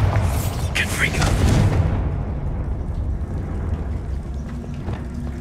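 Bombarda spell explosions in the video game Hogwarts Legacy: a loud, booming blast at the start that rolls into a long, dense rumble fading under continued game noise.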